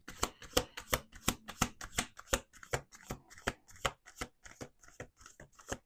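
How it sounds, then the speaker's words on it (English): Playing cards riffle and snap in quick, rhythmic bursts, a close, crisp flurry of shuffling with no talking. "Let's do two more shuffles."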